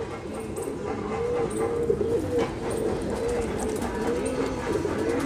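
A Kalmuha high flyer pigeon pair cooing together, producing continuous, close, rolling throaty coos with a low background hum throughout.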